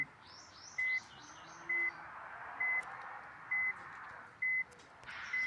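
A bus in the Bus Simulator Indonesia video game sounds evenly spaced electronic reversing beeps, five short tones in a steady rhythm over a faint engine hum and soft bird chirps.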